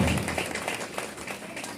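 An audience at a Kannada literary celebration claps steadily and densely, a close wash of many hands with no break.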